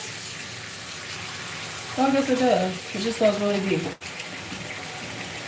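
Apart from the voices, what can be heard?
water filling a bathroom sink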